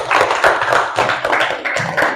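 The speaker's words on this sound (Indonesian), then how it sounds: "Tepuk tangan untuk Ari." Classroom applause for a student, a group of pupils clapping together in a brisk, dense burst that continues steadily for a couple of seconds, close and fairly loud with no talking.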